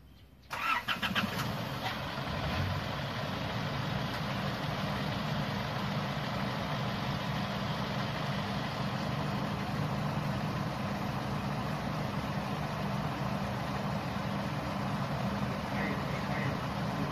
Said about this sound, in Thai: ติดเครื่อง